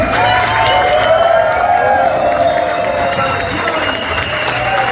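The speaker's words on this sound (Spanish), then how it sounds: "por favor, un aplauso a los diputados que ya están acá con nosotros al frente" Crowd applauding and cheering for deputies of El Salvador's legislature at a diaspora gathering in Houston, Texas; steady, loud clapping and crowd noise fill the room without a break, with voices mixed in.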